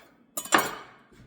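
A knife slicing the root end off a leek on a cutting board: two quick close taps against the board followed by a fading crunch, with a faint tap after.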